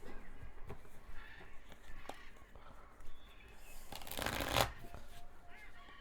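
Tarot card deck being shuffled by hand, soft rustling and riffling in short bursts with a louder, brighter riffle near the end, fairly quiet and close.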